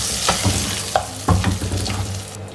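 Hot tempering crackles and sizzles as it is poured into mango pulissery, a Kerala curry, giving a loud, close burst of frying with a few sharp pops over about two seconds, no voices.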